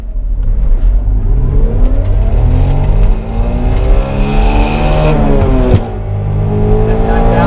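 A Suzuki Cappuccino engine, loud and close, revving hard and climbing steadily to about 9,000 RPM, then dropping back with a brief dip before settling.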